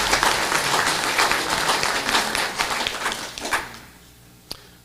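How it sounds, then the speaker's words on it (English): An audience at a science symposium gives a round of applause, thick steady clapping from many hands that thins out and fades after a few seconds, leaving a couple of last claps. "A quick round of applause would be wonderful"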